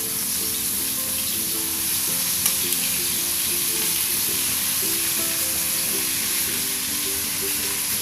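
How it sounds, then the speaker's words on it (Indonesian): Spice paste for Indonesian beef semur fries in hot oil in a pan, with a steady, close hiss and sizzle and faint stirring scrapes throughout, no talking. "Nih kita goreng dulu bumbunya ya."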